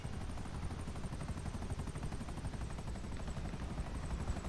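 Helicopters chase through a GTA V Online game scene, giving a faint, steady rotor thumping with rapid rhythmic chopping throughout and no talk.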